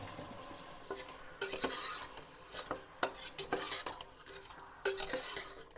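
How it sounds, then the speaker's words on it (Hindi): Meat for Kashmiri shalgam gosht fries in oil with a continuous sizzle, broken by irregular scraping and clattering of a spoon against the pot. "सारा मीट हम बिस्मिल्लाह करके इसमें डाल लेंगे इस तेल में।"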